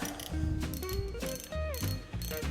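A fishing reel's drag clicks and whirs as line is pulled off, producing close, loud ratcheting bursts with short pauses between them.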